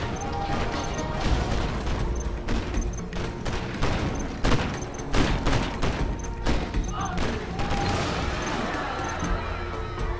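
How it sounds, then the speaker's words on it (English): A spinning-barrel gun fires in a tank battle video game, a dense continuous roar of rapid shots with crashes and impacts layered over it and a steady rumble beneath. "Gun barrel spinning."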